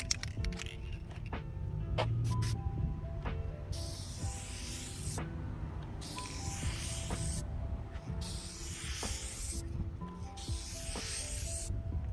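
Four long hissing bursts of aerosol spray onto a 2008 Hyundai car headlight, each a few seconds, separated by brief pauses, with a few faint clicks beforehand.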